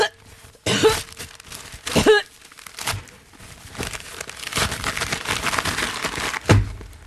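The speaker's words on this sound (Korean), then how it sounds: "신문지 찢은 거죠." Newspaper torn by hand in several short ripping and crinkling bursts, close to the microphone, with a cough and some rustling between the tears in an indoor studio.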